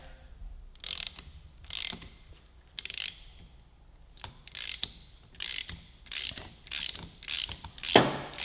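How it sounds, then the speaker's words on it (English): Motion Pro PBR chain breaker tool being tightened on a motorcycle chain, giving repeated bursts of ratcheting clicks in short spaced bursts, close and fairly loud with quiet gaps between. "So using the same chain breaker tool, snug that up."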